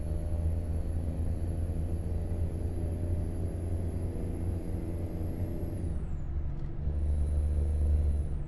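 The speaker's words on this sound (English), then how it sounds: "God, this truck sounds so good." A heavy truck engine in American Truck Simulator drones steadily with a deep, constant rumble, dipping briefly as if shifting gears before resuming.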